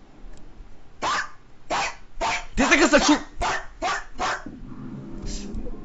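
A man imitates a big dog's barking, voicing about eight loud, gruff bark-like bursts in an uneven rhythm close to the mic, with a short spoken phrase mixed in.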